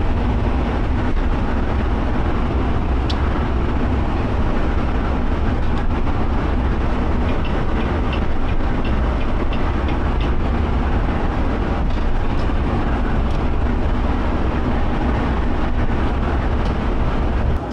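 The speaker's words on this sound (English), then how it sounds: "The wind noise is really quiet." Steady broadband road and wind rumble inside a new 2024 Prevost H3-45 coach cruising at 71 mph, a constant dense roar with faint rattles over it, no talking.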